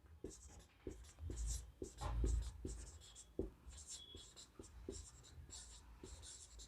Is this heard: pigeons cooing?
no